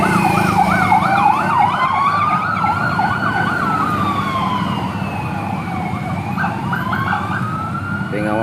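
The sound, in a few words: sirens of emergency vehicles escorting vaccine delivery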